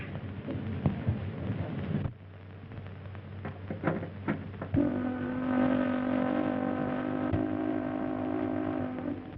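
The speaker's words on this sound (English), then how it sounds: "That's the ashore whistle, Mr. Watson." A departing ocean liner's deep, sustained whistle blows steadily for several seconds, a loud harmonic tone rising over low rumbling background noise.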